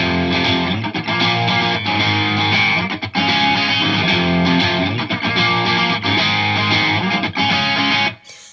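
Distorted electric guitar playing a cover, a dense, loud, sustained chordal part running continuously before cutting off near the end, with no voices.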